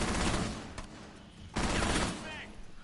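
Gunfire from assault rifles or submachine guns in the Rainbow Six tactical shooter: two loud, close bursts of rapid automatic fire, the second starting about halfway through, with a quieter stretch between them.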